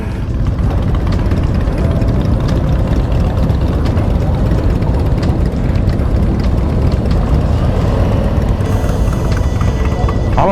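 Harley-Davidson motorcycle engines idle and run together at a bike meet in Las Vegas, a loud, steady, low rumble that continues unbroken for the whole stretch with no clear pauses.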